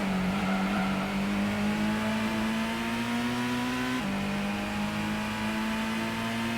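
Racing car engine in Gran Turismo on PS1, a steady loud droning whine holding nearly constant pitch with a brief drop and recovery partway through, continuous and close with no talk.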